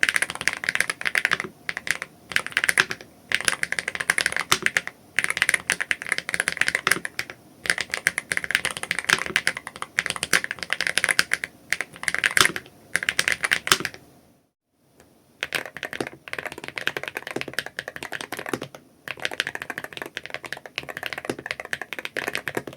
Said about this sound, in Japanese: 柔らかい打鍵音と打鍵感でクリーミーやソッキーな音が好きな人には刺さるスイッチだと思います。